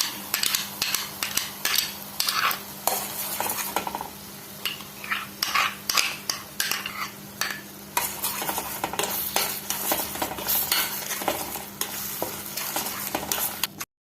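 Ground paste stirred into sautéed masala for creamy paneer butter masala, a spoon scraping and clinking repeatedly against the pan over a steady close sizzle, no voices.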